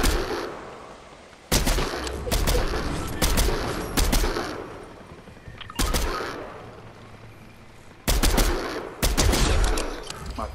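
Gunfire in the video game Fortnite on PS5: bursts of rapid automatic shots and single cracks come in several clusters, loud and close, with short gaps of quieter game ambience between them.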